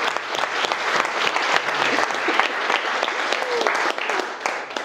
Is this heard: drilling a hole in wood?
no